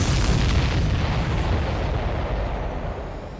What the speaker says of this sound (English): Everybody, keep a safe distance to avoid getting caught in the explosion.